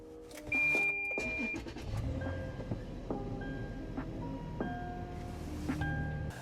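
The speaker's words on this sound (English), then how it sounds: "the only thing left to do is hop in the car, turn it on, and hope that it still runs" A 5th gen Toyota 4Runner starts up after an intake cleaning: a brief starter crank, then the engine catches and settles into a steady idle, heard close, with some faint clicks and chimes.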